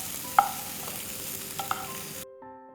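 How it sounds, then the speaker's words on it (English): Boiled macaroni, vegetables, onions and red chili flakes tossed in butter and garlic in a pan, a soft sizzle with a few distinct clinks of a utensil, then stopping abruptly. "Now let's mix all of this together."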